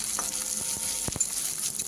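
Slit green chillies go into garlic and onion frying in oil for a spicy fried amaranth-stem greens dish, giving a steady close sizzle with a few sharp stirring clicks.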